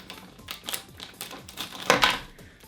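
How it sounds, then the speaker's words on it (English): Scissors snipping through plastic McDonald's toy packaging, a short run of close, crisp cuts and crinkles with several sharp clicks, louder toward the end. "I'm just going to do it with scissors."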